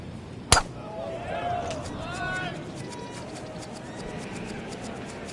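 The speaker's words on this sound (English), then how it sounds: "did you hear the sound of that coming off the club face?" Sharp crack of a golf club face striking the ball on a tee shot at a par 5 hole at the Wetlands, a single loud impact near the start, followed by crowd noise and distant voices.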